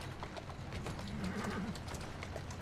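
Horse hooves clip-clop along the streets in the video game Assassin's Creed Syndicate, a steady, moderately close rhythm of hoofbeats over a low ambient bed.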